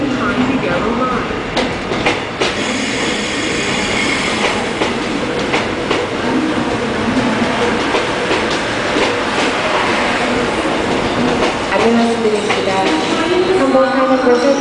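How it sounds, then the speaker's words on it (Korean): A Seoul metropolitan subway train rolls into a station platform in South Korea, a loud steady rumble of wheels and rail clatter with brakes squealing toward the end, while bilingual platform announcements and voices sound over it. "The train is now approaching. Please wait behind the yellow line."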